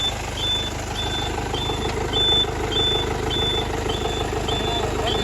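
A new truck engine runs with a steady, loud, rumbling drone, while a high beep repeats at regular intervals over it.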